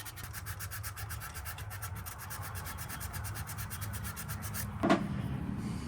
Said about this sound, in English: Get a little piece of sandpaper and go over it real quick.